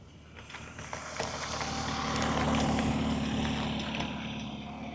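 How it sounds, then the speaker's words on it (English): A motorcycle passes while riding an e-trike near the Quartzsite LTVA entrance: engine rumble swells steadily to a peak around the middle, then fades, alongside constant road and wind noise. "Oops, here comes a motorcycle."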